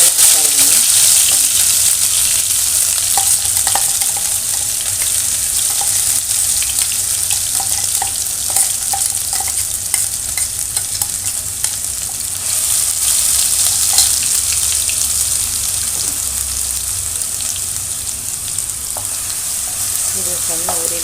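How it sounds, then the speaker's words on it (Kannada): Ground masala sizzles in hot oil, a loud, close, continuous crackling hiss with faint stirring and clinks throughout. "ಎಣ್ಣೆ ಕಾದಿದೆ, ರುಬ್ಬಿರೋ ಮಸಾಲೆ ಹಾಕ್ತಾ ಇದ್ದೀನಿ."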